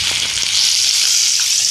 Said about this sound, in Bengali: মাছ ভাজি